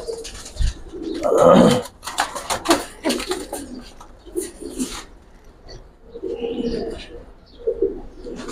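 Pankhi (fancy) pigeons, a large restless pair, flutter and coo close by in a loft, with bursts of wing flapping, scuffling and brief calls spread across several seconds.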